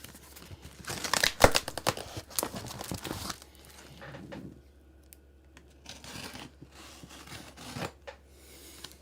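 Paper packaging on an air pump box tears open with several loud ripping and crinkling bursts early on, followed by quieter rustling and handling sounds.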